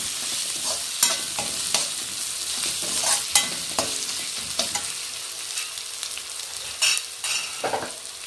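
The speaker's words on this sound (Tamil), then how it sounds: "இஞ்சி பூண்டு பேஸ்ட் வந்து கொஞ்சம் எண்ணெயில் கொஞ்சம் வதங்கினா தான் கொஞ்சம் வாசனையாக இருக்கும்" Ginger garlic paste fries in oil for chilli prawns with a constant sizzle, broken by repeated sharp scrapes and clinks of a spoon stirring the pan. The sounds are close and there is no speech.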